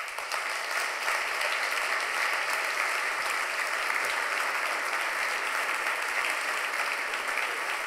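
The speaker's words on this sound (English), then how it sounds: "by the length of this applause, you can hear that this was really inspiring" A conference audience applauds at length after a Brookings Institution vice president's speech, a dense, even wash of many hands clapping that continues without a break, with no voices over it.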